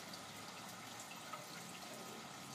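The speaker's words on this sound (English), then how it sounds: "the stalk suspended in the bottom of the bucket and being sprayed on by the water pump" Steady, faint hiss of a small water pump spraying water inside a bucket aeroponics system, with tomato cuttings suspended in it. The spray runs continuously and evenly, like a soft constant shower, with no one talking.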